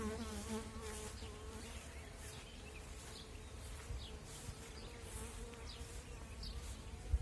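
Loud, continuous droning of a swarm of honey bees at a hive in light rain, a thick buzzing hum that holds steady throughout.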